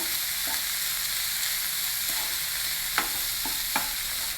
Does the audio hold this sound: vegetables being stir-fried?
yes